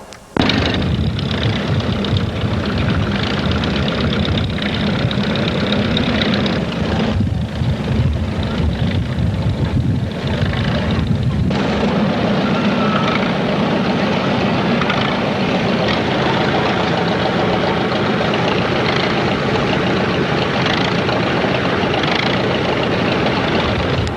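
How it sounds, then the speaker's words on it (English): An old, rare Frick tractor engine runs steadily at a threshermen's reunion show, a continuous loud low rumble with a shift in tone partway through and no talking. "This old Frick is a real rare tractor."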